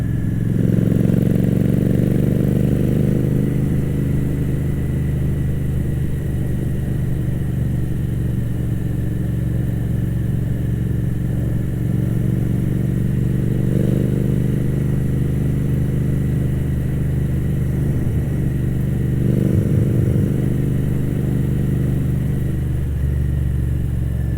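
Steady motorcycle engine drone while riding a rural stretch of Route 60 through the Shenandoah Valley in Virginia, continuous and close with wind rush, the engine note swelling slightly around shifts, no talking.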